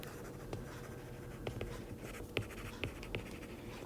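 A pen scratches and taps across a board or paper, writing out the chemical names of vitamin B in short, irregular strokes, close and steady over a noisy room tone.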